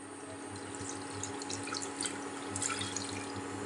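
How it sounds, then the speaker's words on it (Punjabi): Water pouring from a cup into a pot on a stove for jaggery tea, a steady, fairly quiet trickle and splash with a low hum behind it, with no talk. "ਇਹਦੇ ਵਿੱਚ ਆਪਾਂ ਇੱਕ ਕੱਪ ਪਾਣੀ ਦਾ ਪਾ ਲੈਨੇ ਆ"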